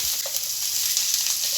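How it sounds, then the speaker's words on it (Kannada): Onions sizzle steadily in hot oil in a pan, a soft, even crackling hiss up close with no talking. "ಇವಾಗ ಈರುಳ್ಳಿ ಹಾಕ್ತಾ ಇದ್ದೀನಿ ಫ್ರೈಗೆ."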